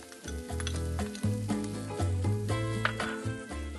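Finely chopped green peppers sizzling in a hot pan, a bright continuous crackle heard beneath a louder layer of low tonal sound that rises and falls throughout.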